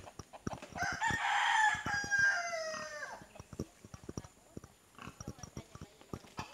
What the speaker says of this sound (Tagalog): May mga alagang manok.